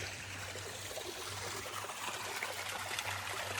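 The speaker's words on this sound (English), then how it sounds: "listened to the creek" A mountain creek beside a dispersed campsite near the Rachel Lake Trail trickles and burbles in a soft, steady wash, faint and continuous with no voices.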